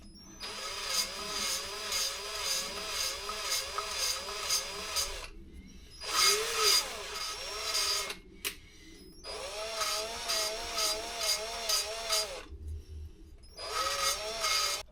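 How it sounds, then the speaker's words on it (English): A power drill whirs in repeated bursts while working on a Honda CD200 motorcycle engine, rising and falling in pitch with short silent pauses between runs, close and fairly loud. "I know it's lazy using a drill."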